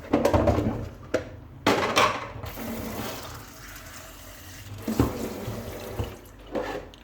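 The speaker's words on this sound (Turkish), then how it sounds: "Bir daha yıkıyorum." Green olives are rinsed under a running kitchen tap, water splashing and gushing in uneven bursts as they are stirred and shaken in the sink, close and fairly loud with no talking.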